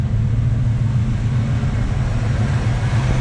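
Steady, loud, close-up idle rumble from the exhaust of a cold 1973 Chevrolet Camaro Z/28 LT, a deep even throb with no revving and no talk.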